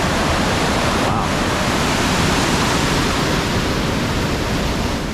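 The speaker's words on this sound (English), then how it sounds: "Danger dam, stay back 100 feet from boil." Churning boil of turbulent water below a dam, a loud, steady roar of rushing, foaming flow that fills the scene without pause, close and constant.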